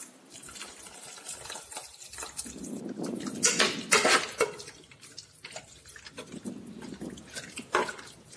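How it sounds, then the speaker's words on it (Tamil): Mango juice, a tumbler's worth, poured into rice for mango rice, giving a close, splashing liquid pour that swells and fades in uneven bursts over several seconds. "மேங்கோ ஜூஸ் ஒரு டம்ளர் வந்து உள்ளே ஊற்றிடணும்"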